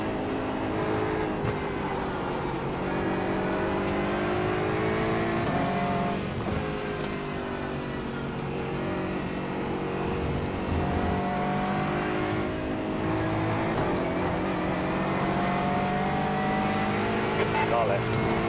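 Race car engines in an iRacing IMSA Pilot Challenge endurance race at Lime Rock, with a close, loud engine note rising and falling through gear changes as another car runs alongside, and a voice speaking intermittently over the engines.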